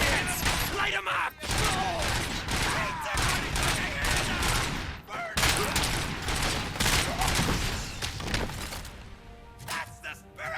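Dense, sustained gunfire from the RoboCop: Rogue City video game: rapid bursts and volleys with crashing impacts and shattering debris, loud and continuous throughout, with occasional shouted voices mixed underneath.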